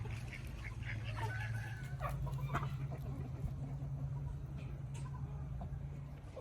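Low, soft clucking from a rooster close by, steady murmurs over a faint background hum with occasional light rustles.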